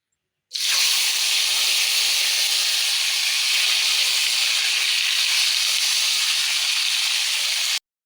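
Fish frying in hot oil for a Bengali home-cooked lunch, a loud, steady broadband sizzle that starts abruptly and holds evenly for about seven seconds before cutting off, with no voices.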